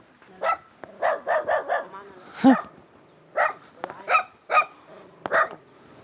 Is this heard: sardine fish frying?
no